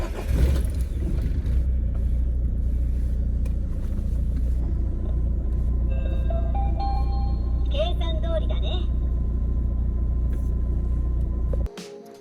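A Toyota AE86's engine runs with a steady low idle rumble, close and loud, continuing for several seconds before cutting off abruptly; brief chirps ring out partway through.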